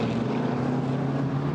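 Steady engine drone of GT4 race cars, an Audi and a McLaren, on the Misano circuit, a sustained loud hum with a slight pitch shift near the end as a car passes.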